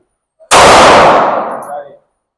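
A single loud, close pistol shot firing Phoenix full metal jacket ammunition, a sharp crack followed by a brief ringing decay.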